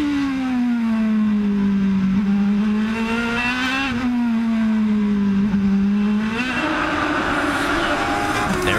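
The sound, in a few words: IndyCar race cars coming through a corner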